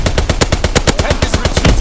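Rapid machine-gun fire in a Call of Duty WWII battle, a loud, fast, evenly spaced stream of close shots that runs continuously with no pauses.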